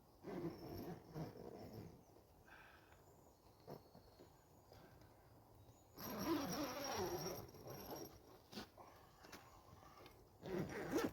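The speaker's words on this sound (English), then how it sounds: "the zips are a bit stiff" Stiff zips on a Dutch Army tent are worked open and shut outdoors, several faint rasping pulls in short bursts, the longest and loudest drawn out after the midpoint, with quiet pauses between.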